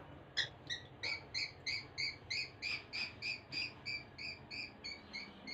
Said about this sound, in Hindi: बाल्टी में ये बेचारी चिड़िया गिरी हुई थी